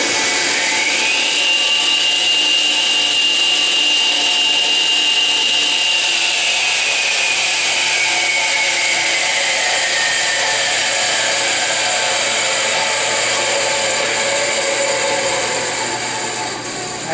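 An old Montgomery Wards table saw runs steadily after a motor repair, its loud continuous whine sliding down in pitch as it spins down, with no cutting and no talking.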